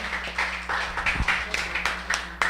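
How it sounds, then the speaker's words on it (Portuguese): A church congregation clapping in a steady rhythm to welcome a preacher, with many hands beating together in repeated bursts that fill the room. "Vamos receber o servo de Deus com as palmas para o Senhor Jesus"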